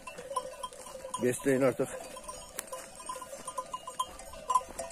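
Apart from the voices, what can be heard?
young goats and lambs bleating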